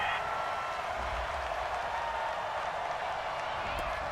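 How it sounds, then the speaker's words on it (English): A virtual stadium crowd in Madden NFL 20 reacts to a penalty flag on third down with a steady, sustained roar of disapproval, a broad wash of crowd noise heard alone at moderate level. "Well, the crowd doesn't like that."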